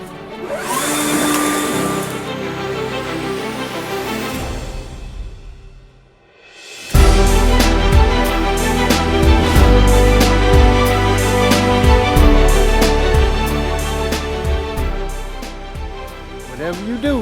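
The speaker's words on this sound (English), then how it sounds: "Greenworks blower right here, and I'll be using that backpack model that's over there" A Greenworks battery-powered backpack leaf blower clearing debris from a landscape bed: a loud steady whooshing roar that drops away briefly, then surges back with rattling and tapping of debris, close by, with voices occasionally speaking over it.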